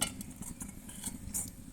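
Goat soup is stirred in an iron pan over a wood fire, with soft metallic scrapes and light clinks from the utensil coming in short, uneven strokes.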